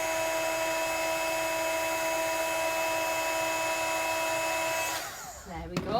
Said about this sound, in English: We're just holding our heat gun still until we see that powder start to melt and change.